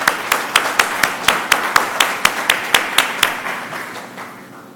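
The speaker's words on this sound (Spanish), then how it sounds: "Le damos un aplauso a Juan José Obando." Audience applause for a speaker at a conference session, heard as a run of about fifteen evenly spaced, crisp claps that start close and loud and then fade steadily, with no talk over them.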